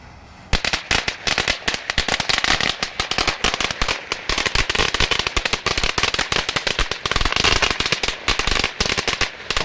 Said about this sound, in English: here goes some beast crackers, and this is a lot of them right here